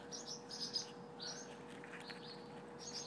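Small birds chirping and tweeting around a nest with fledglings, a steady run of high calls, the adult birds agitated, at moderate distance with faint background hum.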